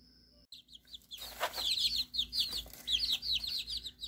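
Baby chicks being moved into a coop with older chickens give repeated high, rapid peeping chirps that run nearly continuously, fairly close and clear over a low steady background hum.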